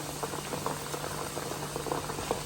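Homemade herbal hair oil, about a kilo of oil, simmers on low heat with a dense, even bubbling hiss and faint patter, steady and close throughout with no voices.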